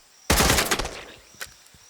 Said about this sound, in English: Judging by all the gunfire.